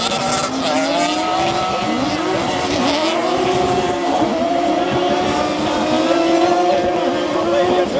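Race cars on the Trophée Andros ice-racing circuit brake and accelerate through a corner, several engines whining and shifting pitch together under a continuous roar, with a commentator talking over them.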